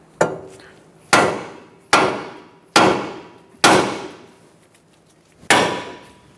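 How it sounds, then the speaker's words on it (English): A hammer striking a steering knuckle to free the outer tie rod on a 2012-2019 Fiat 500, six sharp metallic blows at roughly one-second intervals, each ringing briefly before fading. "to release the tie rod from the knuckle, we're going to give it a tap"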